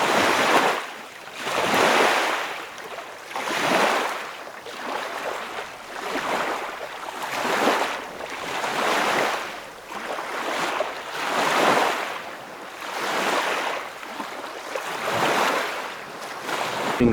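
Waves roll onto the beach at Cleethorpes promenade in steady surges about every two seconds, each swelling and fading, with wind noise and no voices.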